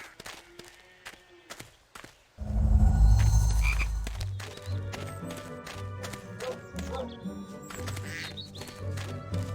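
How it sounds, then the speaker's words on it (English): A frog croaking in the Harry Potter and the Chamber of Secrets video game, a string of loud, deep croaks after a sudden burst, set against clicky game sounds and soft background music. "You'd have to knock the frog out before you can catch it."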